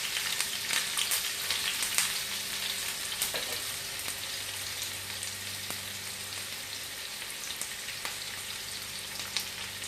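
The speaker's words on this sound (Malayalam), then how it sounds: "വറ്റൽമുളക് എന്നിവ ചേർത്ത് ചെറുതായിട്ടൊന്ന് ഇളക്കി കൊടുക്കാം" Sliced onion and dried red chillies frying in hot oil for a South Indian yam curry, a steady, even sizzle with faint crackles close by and no voices.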